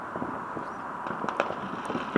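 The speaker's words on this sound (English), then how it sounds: "fireworks go off all along the horizon as the Sikh, Hindu and Jain communities celebrate" Fireworks bursting along a distant horizon on Diwali night in Surrey, heard as scattered faint pops and crackles over a steady low rumble of background noise.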